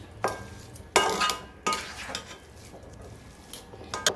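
A spoon scrapes and stirs rice flour dough for sweet karadai in a metal vessel, giving several separate bursts of scraping with short pauses between them.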